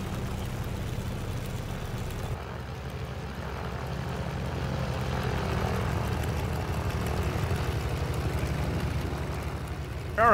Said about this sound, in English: I really like the sounds aboard this M7.